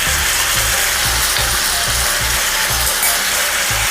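Tomatoes and onions fry loudly in a pan with a constant, dense sizzle, punctuated by a steady rhythmic low thumping throughout.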